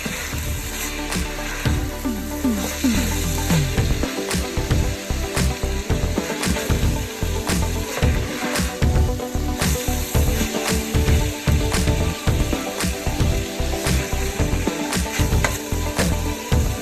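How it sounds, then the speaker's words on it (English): Garlic and onion fry in olive oil in a pan, giving a continuous close sizzle broken by a steady run of sharp clicks and scrapes, likely from stirring, with no voices over it. "Adding a little bit of olive oil so that we can carry on frying."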